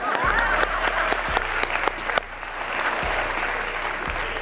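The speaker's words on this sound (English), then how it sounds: "Let's clap it up for these 11 people." An audience at a motivational talk claps steadily, a dense full round of applause filling the room for several seconds without pause.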